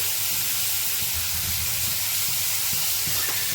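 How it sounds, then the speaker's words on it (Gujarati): Tomatoes hitting hot oil spiced with coriander-cumin powder in a pan, giving a loud, steady sizzle and hiss with faint stirring bumps underneath. "અને હવે આપણે એમાં ટમેટા એડ કરી દઈશું અને આપણે આને મિક્સ કરી લેશું બધું."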